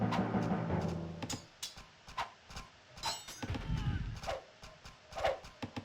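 A horse in a strategy video game clip-clops with hooves and gives a brief neigh, mixed with sharp clicking game effects and sparse impacts.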